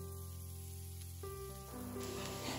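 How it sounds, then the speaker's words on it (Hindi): Onion, ginger and garlic browning in ghee in a pan, a steady close sizzle and crackle that thickens partway through, with no talk. "उसी में मैं ये प्याज अदरक लहसुन को ब्राउन करूँगी"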